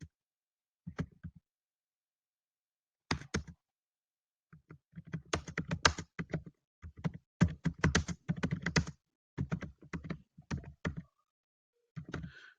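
Typing on a computer keyboard, close and crisp, in scattered bursts of rapid key clicks separated by quiet pauses.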